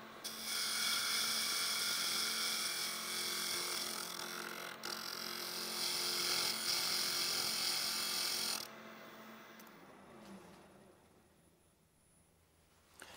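A steady whining, grinding hum of a spinning wood lathe as a tool turns a wooden cylinder, running several seconds before winding down into quiet.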